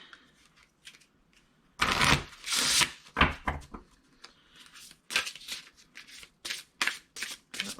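Tarot cards shuffled and drawn by hand, a soft rustle followed by a loud riffling burst, then a run of short crisp slaps and flicks as cards come off the deck, close and with nothing else heard.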